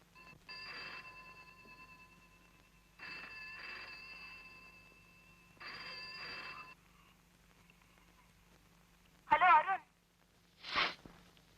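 Telephone ringing indoors in three evenly spaced bursts of a steady electronic bell tone, followed by two brief louder sounds near the end, with no voices over the rings.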